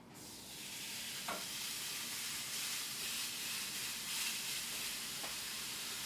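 A porterhouse steak sizzles loudly and steadily in a hot pan, with a continuous broad hiss and a couple of brief sharp pops, close up and without any talk.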